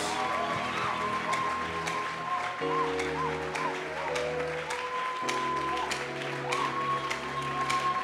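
Church congregation applauding steadily through the whole stretch, a dense clapping wash mixed with sustained keyboard or organ music playing underneath.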